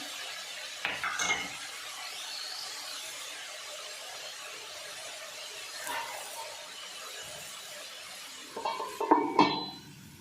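Spinach cooking in a pot over a low gas flame, with quiet background hiss broken by a few brief clinks and scrapes of a spoon stirring, busiest near the end.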